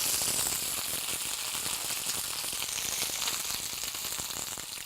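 Spinach leaves still wet from rinsing hit hot oil in a pan, giving a soft, continuous sizzle with scattered tiny pops, fairly quiet and steady with no voices.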